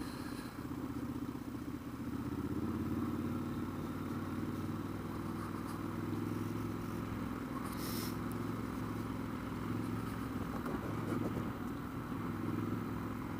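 A Triumph Scrambler 1200 motorcycle rumbles at low speed, about 20 mph, along a pothole-strewn dirt road, its engine a steady close drone with rustling wind and faint clatter, no one speaking.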